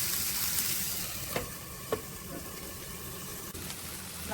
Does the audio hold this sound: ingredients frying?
yes